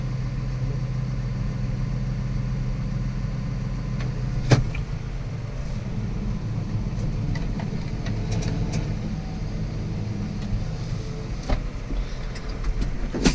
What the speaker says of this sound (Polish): Odpalamy ciągnik.